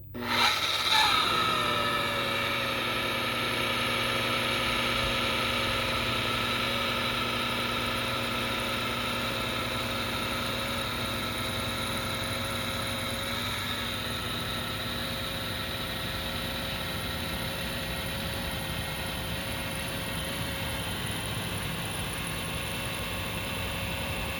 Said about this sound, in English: allowing the buffer to do a couple more rotations per inch